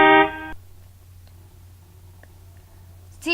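A car horn gives one short, loud honk at the start, followed by quiet background and a brief faint tone at the end.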